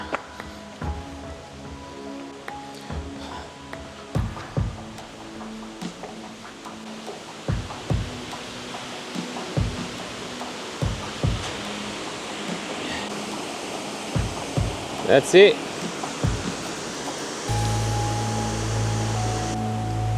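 A waterfall in Tasmania, Preston Falls, rushes as a steady broadband roar while footsteps and handling knocks sound nearby, and a brief voice speaks near the end before the wind-buffeted sound thickens.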